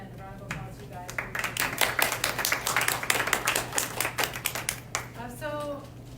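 An audience applauds panel members with a sustained round of dense, irregular clapping that swells and then fades, with a voice speaking briefly over the start and again as the applause dies down.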